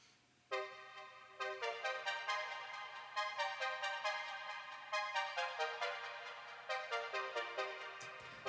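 A bright, string-like melody line played on a Poly 6 synthesizer, with a steady run of evenly spaced plucked notes that step through a simple pop phrase, heard alone and up close.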